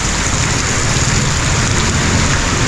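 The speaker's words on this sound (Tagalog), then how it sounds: "Grabing ulan. Ang lakas." Heavy rain pouring down in a dense, steady hiss, loud and close, with no pauses and no talking.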